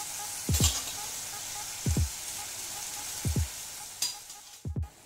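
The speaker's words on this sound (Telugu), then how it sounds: "కొంచెం ఆయిల్ వేసేసుకోండి" Oil in a pan for gongura pachadi gives a faint steady sizzle, broken by four sharp low thuds spaced about a second and a half apart, like utensil or pan knocks, with no talk.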